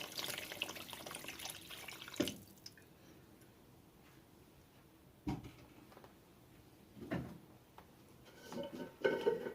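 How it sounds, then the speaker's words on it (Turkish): Extra water being poured into a pot of village-chicken broth soup with noodles, a steady splashing pour near the mic at the start, then quieter sloshing and a few brief knocks and splashes, with no talk. "Birazcık biraz daha ilave su koyuyoruz"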